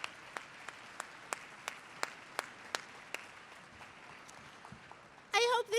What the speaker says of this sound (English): Can you join me in another round of applause for all 5 of our speakers?